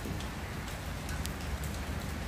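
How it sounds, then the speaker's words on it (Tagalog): Heavy rain pours steadily outside beneath a talisay tree, a dense, constant hiss of drops striking leaves and surfaces, close and even throughout with no talking. "Ayan, parang lumakas ang ulan."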